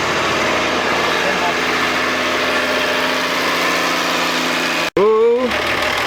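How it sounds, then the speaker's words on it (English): Large vehicle engine idling after an air ride suspension repair: a steady, low droning idle with constant vibration, briefly cut by a sharp dropout near the end before the hum resumes alongside a rising whine. "idling on her own."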